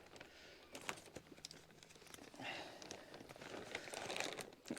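A plastic bag of dry pelletized fertilizer is torn open by hand outdoors, giving quiet crinkling and ripping bursts over a few seconds.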